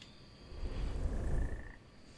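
Frogs croak in the woodland of the video game Feral, a dense, low rattling chorus that swells in the middle and fades, close and fairly loud with no voices.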